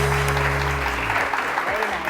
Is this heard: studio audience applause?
yes